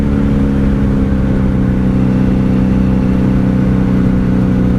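A 1997 Honda Magna VF750C motorcycle runs under way, its engine a loud, steady, unbroken drone blended with wind rush, heard from the rider's position without talking.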